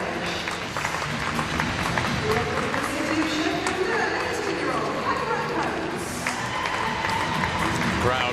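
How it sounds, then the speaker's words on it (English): Crowd at an indoor athletics championship applauding as women's high jump athletes are introduced, a steady wash of clapping and crowd noise with an announcer's voice running over it. "Crowd receiving these athletes warmly as they are introduced."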